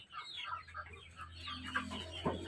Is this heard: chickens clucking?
yes